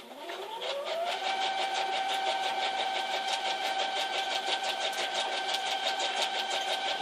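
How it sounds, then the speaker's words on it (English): A sewing machine stitches straight across the top of a dog food bag: the motor winds up quickly, then holds a steady hum with rapid, evenly pulsing stitch beats. "Next step is we're going to just sew across the top right here"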